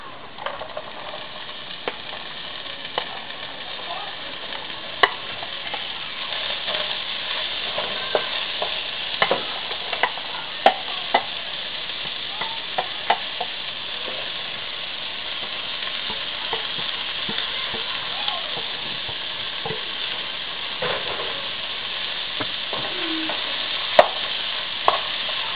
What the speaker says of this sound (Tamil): வெங்காயம் வதங்கிடுச்சு, பீன்ஸ் சேர்த்துடலாம்.